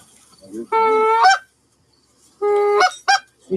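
Geese in a Michigan field during an early goose hunting season give two loud, close bursts of honking, each a few stretched calls, with a short silent gap between them.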